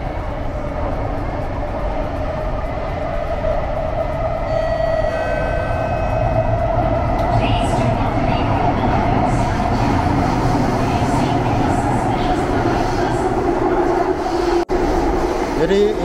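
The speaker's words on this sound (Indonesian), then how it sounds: "Satu stasiun. Ini kosong ya, teman-teman. MRT Singapura kosong, karena memang hari libur." A Singapore MRT train rides along steadily on a quiet holiday, giving a continuous loud rolling rumble and whine inside the carriage with faint tones over it.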